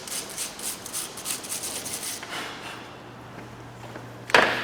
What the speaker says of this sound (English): get your wire brush again. Just give it a bit of a clean out,